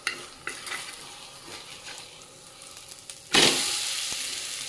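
A besan chilla, a chickpea flour pancake, is turned over in a pan after some quiet scraping and tapping, then bursts into a loud, steady sizzle that carries on close by; no one speaks.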